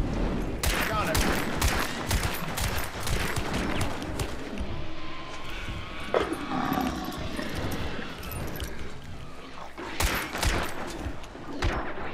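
Rapid bursts of gunfire in the video game Hunt: Showdown crack loudly in several clusters, with people talking over the shooting.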